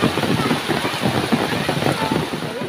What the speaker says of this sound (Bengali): বাইরে যে বৃষ্টি পড়ে রে